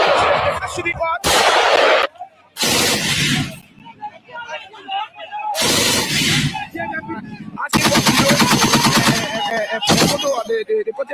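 Loud bursts of gunfire from people shooting, arriving in several long volleys separated by short gaps, with a voice talking between and over the shots.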